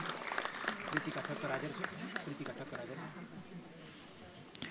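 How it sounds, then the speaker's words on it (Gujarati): An audience at a Kathak dance school event claps for Rajubhai Dave. The applause is a dense, moderately loud patter that fades toward the end, with talking mixed in. "જોરદાર તાળીથી આપણે શ્રી રાજુભાઈના અભિવાદનને વધાવી લઈશું."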